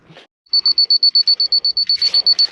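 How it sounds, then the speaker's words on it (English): A laser level receiver gives a rapid, steady series of high-pitched electronic beeps close by, in a field while installing field tile, with faint background noise and a brief murmur before it starts. "I don't want to drive you guys crazy here with the beeping"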